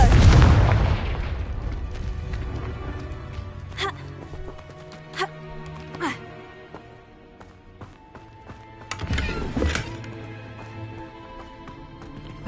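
Confringo spell blasts cast in the Hogwarts Legacy video game: a loud boom at the start, followed by several sharper bangs around four and six seconds and a burst near nine to ten seconds, over a low ambient background.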